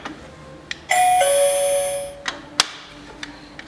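Alarm system door chime rings out a sustained electronic bell tone for about a second, followed by scattered soft clicks and a sharp tick, fairly close and with no voices.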